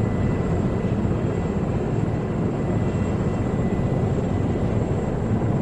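Constant loud rotor and engine roar of a helicopter in flight in the video game Arma, a dense unbroken drone running steadily throughout with no speech.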